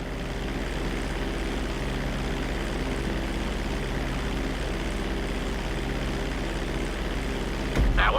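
Propeller airplane engine droning steadily in flight during GTA 5 flying school, a loud continuous hum with a brief knock near the end, no talking.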